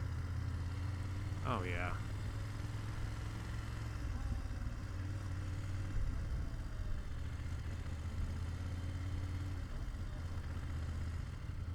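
A 2025 BMW F900GS Adventure motorcycle runs outdoors in cold Minnesota weather with a steady, low engine rumble throughout. Someone speaks briefly over it.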